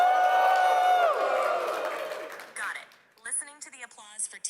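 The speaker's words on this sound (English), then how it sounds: "Listening to the applause" A conference keynote audience claps and cheers for a team, a loud crowd burst that fades after a couple of seconds, followed by someone speaking close to the microphone.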